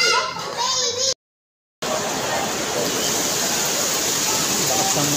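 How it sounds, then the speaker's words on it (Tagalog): Dense, steady roar of heavy rain fills the scene after a brief silent cut, loud and unbroken, with faint voices early on. "Lakas ng ulan ah."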